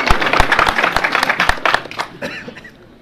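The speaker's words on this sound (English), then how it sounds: "a clap for that." Audience at a press conference about a police raid claps, with distinct hand claps that are loud at first, then thin out and fade toward the end.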